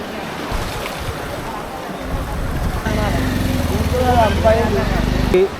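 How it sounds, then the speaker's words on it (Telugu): Cyclone Montha floodwater rushes under a village bridge and spills onto the road in a loud, steady roar. A droning engine joins partway through, and a voice talks over the noise. "ఇక్కడ నుంచి వచ్చి ఈ బ్రిడ్జి కింద నుండి వెళ్ళిపోకుండా తట్టుకోలేకుండా డైరెక్ట్ రోడ్డు మీదకి వేస్తున్నాయి నీళ్ళు"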